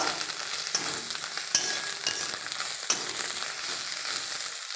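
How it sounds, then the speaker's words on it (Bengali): Two spoonfuls of Kashmiri chili powder sizzle and fry in a pan of soybean curry, a steady crackling hiss broken by a few sharp scrapes of a spoon stirring. "কাশ্মীরি লঙ্কা গুঁড়ি 2 চামচ দিয়েছি, ভালো করে নেড়ে নেব।"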